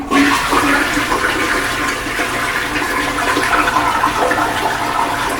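A household toilet flushing after a clog was cleared, a loud steady rush of water swirling through the bowl for several seconds, close by and alone with no voices.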